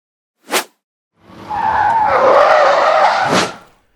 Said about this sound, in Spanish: el riesgo de que el coche pierda trayectoria es elevado, como se puede ver en las imágenes